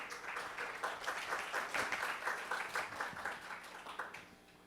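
Applause from a business forum audience on blockchain welcoming a speaker to the stage, a dense steady clatter of many hands that holds for several seconds and then tapers off near the end.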